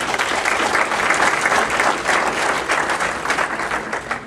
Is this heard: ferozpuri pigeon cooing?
no